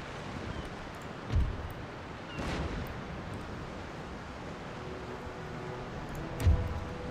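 Warship cannons in Empire: Total War fire in a ripple, giving two deep, distant booms a few seconds apart over a windy, rumbling sea ambience.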